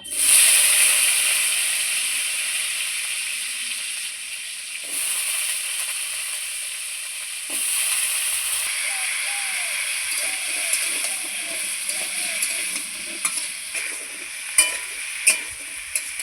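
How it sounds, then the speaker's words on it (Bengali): Elephant foot yam and potatoes frying in oil, giving a steady, close sizzle that carries on throughout, with occasional clinks of a utensil and a few faint sounds in the background. "এদিকে আমার ওল আর আলুটা ভাজা হোক"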